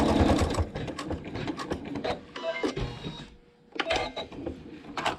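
Sewing machine stitching to tack down quilt fabric: bursts of rapid mechanical whirring and clatter, close and loud, with a short pause before stitching resumes.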